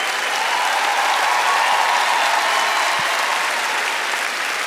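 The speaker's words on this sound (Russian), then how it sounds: "Погромче аплодисменты." Loud, dense applause from a live comedy show audience at a season finale, steady and unbroken throughout, filling the hall with no voices on top.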